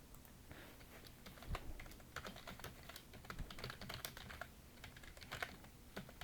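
Rapid typing of Korean text on a computer keyboard: a close, irregular stream of light key clicks with occasional heavier thumps, steady and unaccompanied by speech.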